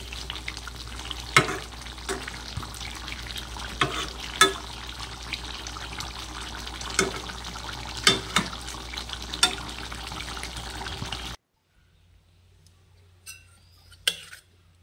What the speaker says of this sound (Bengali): ভালো করে একটু মিশিয়ে নিয়ে নাড়াচাড়া করে এবার নামিয়ে নেব মাংসটা।